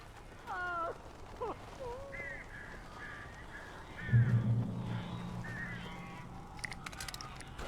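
Crows cawing in the video game Alan Wake Remastered, several harsh caws close by and in quick succession, with a low rumbling sound, faint voice-like sounds and brief flutters underneath.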